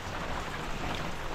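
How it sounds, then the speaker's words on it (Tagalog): Heavy rain pours down in a steady, dense roar that fills the whole moment without any break. "grabe ang ulan"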